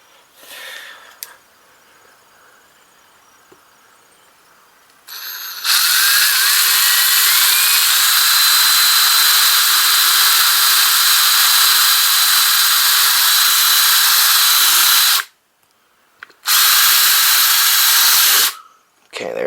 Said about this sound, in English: And then we're going to drill those out.